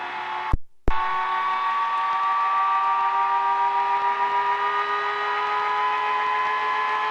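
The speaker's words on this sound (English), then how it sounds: "increase RPMs, getting a rotor up to 200" A gyroplane's engine runs steadily while the rotor spins up toward 200 RPM, a sustained droning tone with strong harmonics after a brief cutout near the start, heard close and loud.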